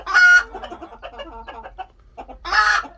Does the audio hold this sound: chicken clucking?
yes